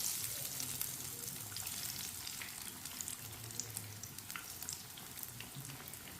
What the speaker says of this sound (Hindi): टिक्कियों को 2 मिनट के लिए पकने देते हैं।